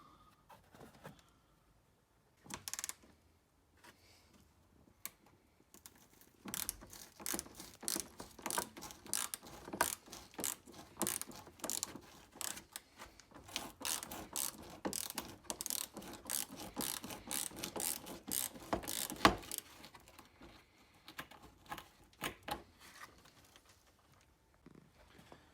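A hand ratchet works 10mm bolts loose on a Lexus IS200 rear bumper, with bursts of rapid clicking pawl strokes that come in short runs and pauses, fairly close and clear with no talk.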